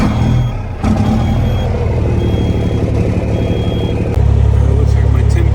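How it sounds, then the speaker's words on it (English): A Kenworth W900B dump truck with a CAT C13 diesel rumbles loudly up close, its low engine note stepping up in level partway through, while intermittent high reversing-style beeps sound in the background. "I'm gonna turn on the truck to see how many loads I can get"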